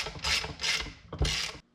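A hand ratchet tightening bolts on a Dana 300 transfer case during a rebuild, three close rasping clicking strokes in quick succession, then it stops.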